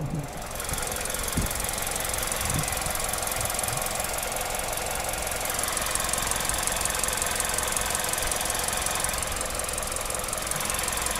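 The 2.5 liter four-cylinder engine of a 2021 Nissan Rogue Platinum runs at a steady idle close by, a constant dense hum with a faint ticking, high whine layered over it throughout.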